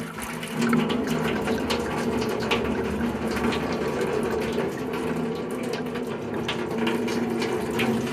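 Water drains steadily from a tankless hot water heater into a pan, a constant trickling and hissing flow at close range with no talk.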